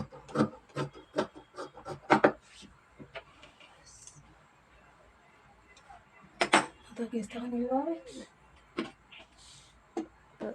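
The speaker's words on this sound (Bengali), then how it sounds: "নিচটা আমরা একটু কেটে নিচ্ছি সমানভাবে" Scissors cut evenly across the bottom of kameez fabric in a run of short, crisp snips and rustles, close by, with someone talking between the cuts.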